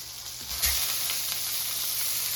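A grouper fillet frying in a pan just after being flipped, a steady loud hissing sizzle with a brief thump as it lands, close and continuous.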